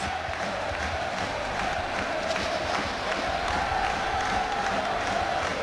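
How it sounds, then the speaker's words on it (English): A noisy, vociferous rugby league crowd fills the Select Security Stadium before a Widnes versus Wigan match, a steady dense roar of many voices with scattered shouts, holding loud and unbroken throughout. "It's always a noisy, vociferous crowd here at the Select Security Stadium."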